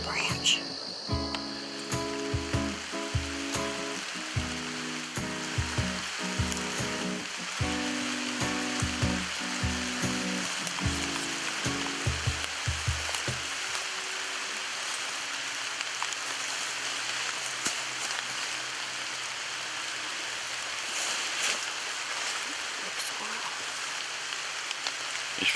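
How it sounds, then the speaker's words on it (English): Rain is starting to fall outdoors, making a steady broadband hiss that continues throughout. Heavy rhythmic thumping fills the first half, then fades and leaves the rain alone. "It's really starting to rain."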